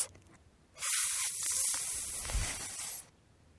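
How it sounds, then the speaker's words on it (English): A steady, soft hissing spray begins suddenly, holds evenly for about two seconds, then cuts off, like a nearby sprinkler whispering. "Some sprinklers make a steady whispering sound"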